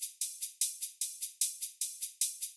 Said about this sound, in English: It's got a lot of that bright noise style hats